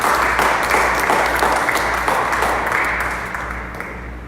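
Church congregation applauding during a Spanish-language worship service, a dense steady wash of many hands clapping that holds loud throughout and tapers slightly near the end.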